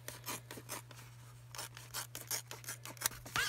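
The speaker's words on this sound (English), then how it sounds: "I'm just going to cut it across." Scissors snip across a red patent leather purse panel, a series of quiet rasping cuts in irregular bursts, close up with no talking.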